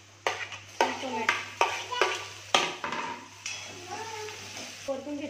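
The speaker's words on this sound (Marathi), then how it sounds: "आता याच्यात मी थोडं हे लसूण टाकते, टोमॅटो" Garlic and tomato frying in a pan, with repeated sharp metal spoon strikes against the pan and a soft sizzle between them, close up. Someone speaks over the cooking.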